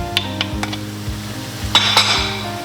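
Chicken tossed with balsamic vinegar and parsley in a hot pan, a utensil scraping and clinking against the metal several times over a soft sizzle, close by with no talk.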